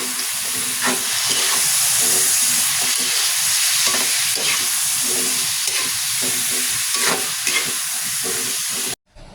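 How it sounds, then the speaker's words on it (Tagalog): Squash (kalabasa) sautéing in a pan with tomato, onion and garlic, a steady close sizzle with a constant hiss and pulsing stirring scrapes, stopping abruptly at the end. "Sa mga gulay, unahin muna natin itong kalabasa na igisa."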